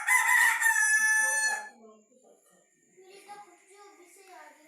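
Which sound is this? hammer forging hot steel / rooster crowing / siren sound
rooster crowing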